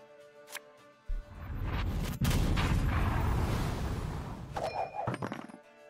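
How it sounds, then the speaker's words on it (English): A Scorch card is played in Gwent: The Witcher Card Game, setting off a sharp thump and a sustained roaring, crackling blast that lasts several seconds before fading into scattered clatter and chimes. There is no talking. "Explosion!"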